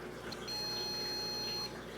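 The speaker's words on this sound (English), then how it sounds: "That's another beep." One soft high-pitched electronic beep sounds from an iDoo hydroponics grower, a clean sustained tone of about a second amid low room noise.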